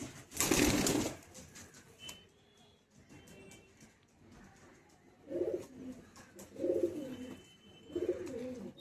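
Soft, low pigeon coos repeat in three short bursts in the second half, following a brief loud rustle or flutter at the start; no talking.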